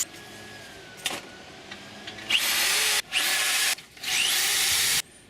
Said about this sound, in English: we drill every one of these holes out